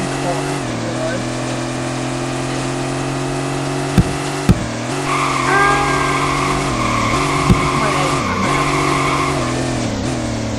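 Engine drone of a Corvette driven in the video game Vehicle Legends, a steady hum with shifting pitch, a few sharp clicks and a rising tire skid squeal midway, running continuously at even loudness.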